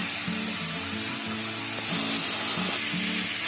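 Mushrooms and capsicum fry in a pan for a pepper mushroom dish, a close, steady sizzle with a brief surge partway through, heard alone with no talking.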